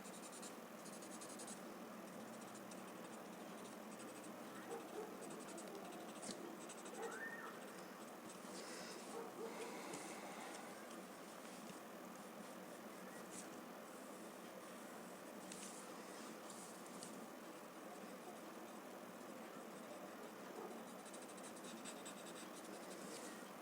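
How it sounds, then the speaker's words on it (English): A graphite pencil is blended on a small paper tile, a very faint, continuous soft scratching and rubbing, with occasional bird coos in the quiet background. "Take your time and nicely blend the graphite."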